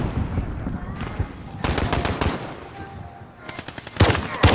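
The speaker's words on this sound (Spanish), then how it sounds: "Papá, te escucho disparando a Genetti, papá." Video game gunfire crackles in rapid automatic bursts, with dense volleys at the start, near the middle and loudest at the end, while players talk excitedly over the shooting.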